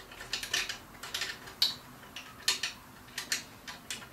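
Quiet metallic clicks and ratcheting ticks come in an uneven series as a bolt is tightened on a rotovator, close by and alone.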